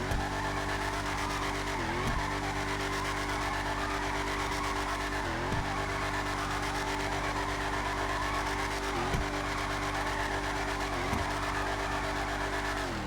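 Declasse Mamba muscle car in GTA 5 Online, its engine droning steadily with repeated gear-shift dips and tire squeal as it drifts on a track, loud and continuous with no talk.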